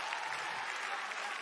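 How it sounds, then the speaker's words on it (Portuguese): Studio audience at a Brazilian TV variety show bursts into sustained applause, a dense even wash of clapping hands that continues steadily from start to finish. "Salva de palmas!"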